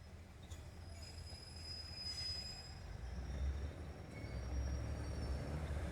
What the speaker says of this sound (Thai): ดี๋ยวเอา 356 ก่อน เข้ามาในชานชลาที่ 5 ค่ะ